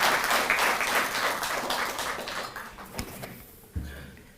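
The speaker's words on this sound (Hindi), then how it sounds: "एक बार जोरदार तालियों से आप सब।" Loud audience applause for the Chief Minister at a Delhi ceremony honouring athletes, dense crowd clapping that gradually fades, with a couple of sharp knocks near the end.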